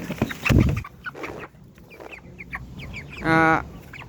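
Large broiler chickens on a poultry farm cluck and squawk nearby in short, irregular bursts, with one louder drawn-out call near the end and a faint background voice.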